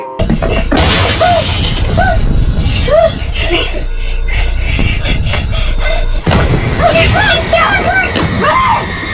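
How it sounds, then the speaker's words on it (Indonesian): Repeated heavy blows on car window glass and shattering glass crash over a loud, busy background, with bursts of impact noise recurring through the clip. "Tapi tiba-tiba Meki memukuli kaca mobil dan membiarkan mereka kabur dari sana."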